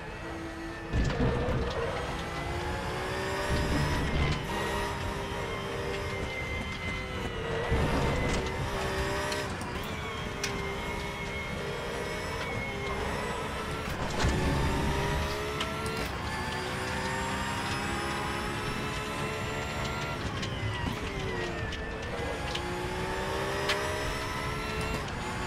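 Video-game McLaren SLR engine droning steadily as it drives, with shifting engine tones and brief dips as gears change, loud and continuous throughout.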